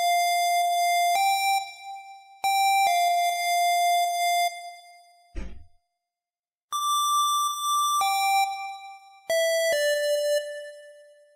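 A plain square-wave oscillator in the Massive synth plays a simple melody of bright, hollow, buzzy sustained notes, alone and fairly loud, broken by one short noisy thump and a pause.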